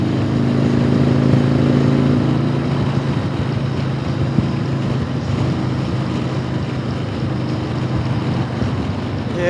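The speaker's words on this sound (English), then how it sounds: "Windy, taking those corners, I feel a little bit of a shake in the bike." A motorcycle rides through gusty wind on the Kancamagus Highway in White Mountain National Forest, leaning through corners. A loud, steady wind roar fills the whole stretch, with a low engine drone underneath that is strongest early on.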